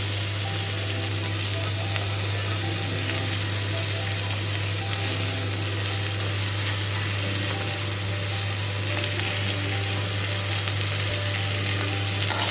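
Onion frying in a pan, a steady loud sizzle and crackle close up, continuous with a low hum underneath.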